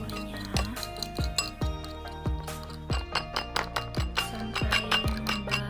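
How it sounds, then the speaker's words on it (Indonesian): A fork whisks salted eggs in a bowl for an omelette, tapping the bowl in a steady run of bright clinks about every half second, close and clear with no talking. "kocok telurnya"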